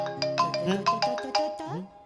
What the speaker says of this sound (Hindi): सोनिया डार्लिंग का फोन